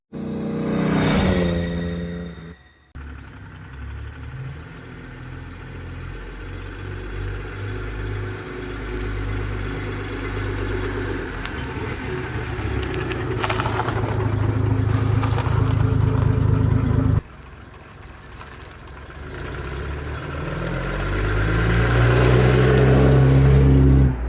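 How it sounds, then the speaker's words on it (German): A restored 1963 Maserati 3500 GT Sebring engine idles with a low, even rumble, then revs repeatedly, the pitch swelling and falling as the car moves off slowly. A brief hollow thump comes near the start. "Ich fahre jetzt mit dem Auto mal ein kleines bisschen langsamer, weil wie gesagt, so eine Maschine muss sich schön warm laufen"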